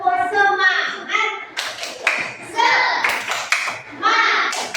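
A class of young children performs a rhythmic clapping chant, their voices rising together with bursts of fast claps in a patterned beat, loud and close in a classroom.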